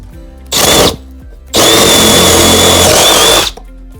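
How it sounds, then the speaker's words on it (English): A power drill bores pilot holes in wooden sauna trim, with a short burst of whirring followed after a brief pause by a longer, steady high-pitched drilling run of about two seconds, loud and close. "So right now I'm gonna drill the pilot holes."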